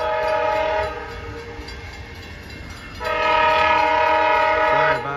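Amtrak P371 passenger train pulling out of Holland station in Michigan, its horn sounding in loud sustained blasts, one long blast, then a quieter stretch of rail rumble, then another long blast.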